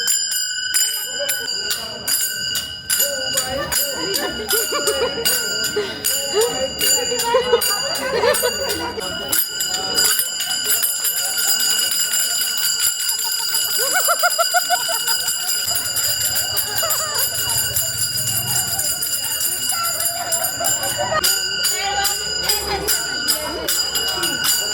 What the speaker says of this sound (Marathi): आम्ही टाळ वाजवतो आणि ही फुगडी खेळतो